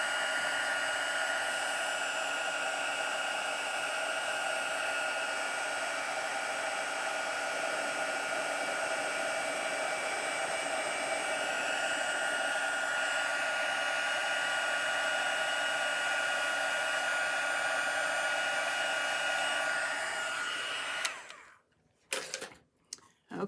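A heat tool for embossing a card blows a loud, steady whooshing drone that runs unbroken for about twenty seconds before cutting off, followed by a few faint clicks and handling sounds.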